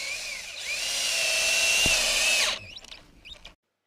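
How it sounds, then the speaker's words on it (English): A power drill drives screws into bamboo poles with a close, whining motor note that ramps up, holds steady for about two seconds, then stops. Short creaks and clicks follow before silence. "we fastened them using screws in the bamboo poles"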